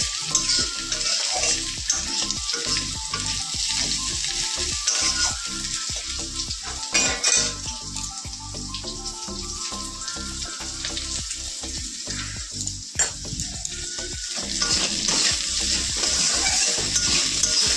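Cauliflower curry frying in a pan and stirred repeatedly, a loud steady sizzle under regular scraping spatula strokes and occasional clinks of metal utensils, close up with no voices.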